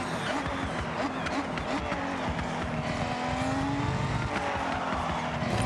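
In Forza Horizon 6, the game's most expensive car is driven hard around a track, its engine holding a steady loud drone with shifting pitch and tire noise underneath.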